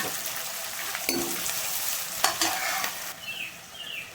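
Mustard seeds pop and splutter in hot oil for a fish curry, a steady broadband crackling sizzle with a few sharper bursts, close and continuous with no talk.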